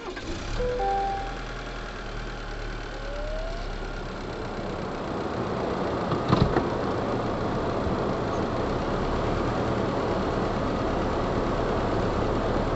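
A 2023 Chevrolet Colorado Z71 pickup with a turbocharged engine pulls away and drives off. The engine hums low and steady throughout, with a brief bump partway through and no talking.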